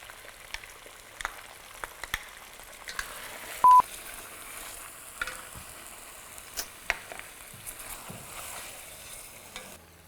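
Onion paste fries in a pan for Bhopali chicken curry, giving a faint, steady sizzle with scattered soft clicks and scrapes of stirring throughout.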